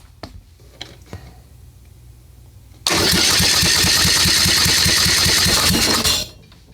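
A Kohler Courage 19hp engine on a Cub Cadet gives a few faint ticking cranks, then catches and runs loud and steady with a fast, even chug for about three seconds before cutting off.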